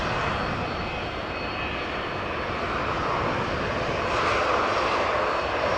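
Airbus A330 jet engines at Amsterdam Schiphol airport, a loud sustained roar that stays fairly steady and builds a little toward the end, heard alone without voices.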